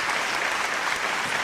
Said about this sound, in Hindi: एक बार जोरदार तालियां बजाकर आप उनका